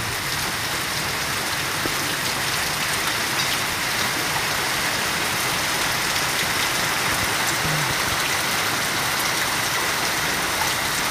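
Heavy rain pours steadily in Montalban, Rizal, a dense, unbroken hiss of drops hitting surfaces that holds at an even, loud level throughout, with no voices.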